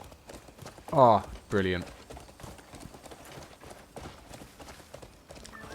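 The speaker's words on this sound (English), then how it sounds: "That noise of the horse trotting, your armor clanking." Horse hooves trotting in the medieval fantasy video game Crimson Desert on PS5 Pro, a soft steady clip-clop under someone speaking briefly, with a faint bird call nearby.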